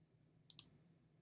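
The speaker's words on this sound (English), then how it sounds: "I can just click on the Proceed to Payment in the bottom right corner" Two quick, crisp computer mouse clicks land close together, a light double tap over a faint steady background hum.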